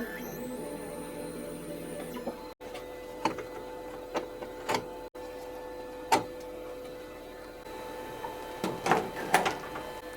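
Onefinity CNC router carving a rounding pass on a Revolution 4th axis, a steady mechanical whine with tonal stepper hum, punctuated by sharp ticks and clicks as the cutter engages.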